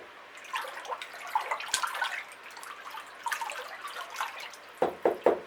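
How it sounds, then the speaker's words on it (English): Liquid orchid fertiliser solution with CalMag added is stirred in a container, giving soft watery swishes and drips through the clip, ending in a few sharper sloshing knocks, close and moderately quiet. "That's the obligatory stir."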